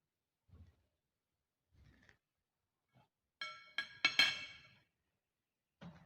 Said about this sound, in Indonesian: Pertama, vinegar ini kita tuangkan ke air panas. Kemudian kita aduk supaya tercampur dengan rata dengan baik.